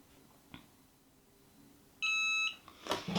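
A Cricut heat press gives a single short electronic beep, clear and close, after a faint click in a quiet room, followed by a rustle of handling.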